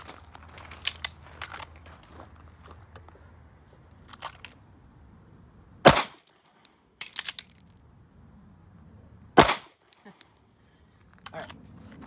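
Two sharp, loud pistol gunshots, spaced a few seconds apart, ring out during a dot torture shooting drill at 5 yards, with faint handling clicks and rustles in between.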